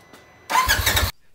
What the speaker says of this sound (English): this is the RJWC APX AL exhaust for the 2017 Polaris